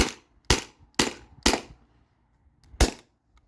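A modified Sabre 68 CO2 paintball marker firing five sharp, close pops, four in quick even succession about half a second apart, then a pause and one final shot.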